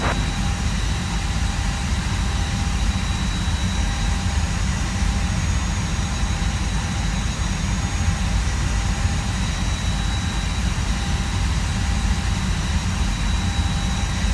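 Jet airliner engines idle steadily during taxi in the Prepar3D flight simulator, a Wizz Air flight from Prague, with a constant loud low rumble and faint high whine throughout.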